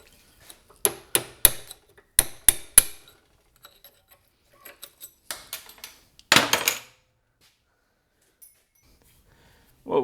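A hammer striking an axle U-joint, giving sharp metallic clinks in quick bursts of two and three blows separated by short pauses, close and loud, with a longer scraping rattle near the end.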